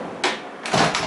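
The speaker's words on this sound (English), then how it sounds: "Oh, we have to close the door." A machine enclosure door slides and bangs shut in a workshop with tools nearby, a short scraping rush followed by a second louder slide and knock, close and brief.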